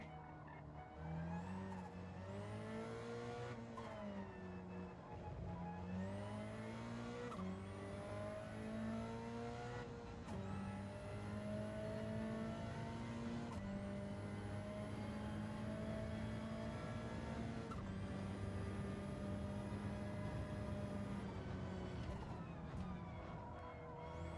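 A race car in a video game laps the Autodrome circuit, its engine whining loudly and continuously, rising and falling through repeated gear shifts and braking into corners, with occasional tire noise and no talking.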